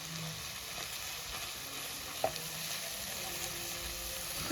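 Onions and slit green chillies frying in oil, a continuous even sizzle close by with a single soft stirring knock midway.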